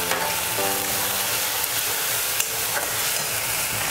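Tomato paste frying in a pan for homemade egg korma, a steady, loud sizzle with a dense crackle. A low hum runs underneath, and a few light stirring scrapes come through. No voices.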